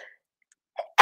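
One sharp, loud sneeze bursts out at the very end, just after a short, faint intake of breath. Near silence comes before it.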